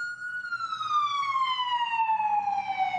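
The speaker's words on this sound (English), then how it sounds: "an ambulance is just going by, so that's what you hear in the background" An ambulance siren wails along a street in Lower Manhattan, a single loud, steady tone sliding slowly downward in pitch as it passes, over a low rumble of traffic.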